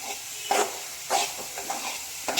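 Banana, coconut and jaggery sautéing in ghee, stirred in short bursts of sizzling and scraping, close and moderately loud, with brief quieter gaps between strokes.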